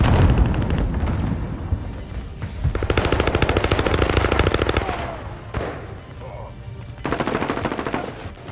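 Automatic hip-fire gunfire in the game Gun Runner, several fast rattling bursts of close, loud shots separated by short gaps, with a longer sustained burst in the middle.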